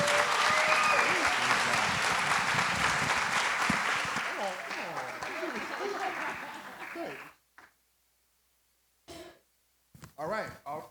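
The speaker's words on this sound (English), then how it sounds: "Round of applause, round of applause." Audience applause at a startup demo day for a Black founders cohort, a loud sustained crowd clapping that fades and cuts off near the end, followed by brief bursts of talk and noise.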